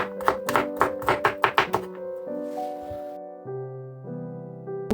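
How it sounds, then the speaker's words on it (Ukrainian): A knife chops horseradish root quickly in a burst of about ten sharp, close strokes against a board, then stops while a steady low tone continues. "зараз я, до речі, нарізаю корінь хрону"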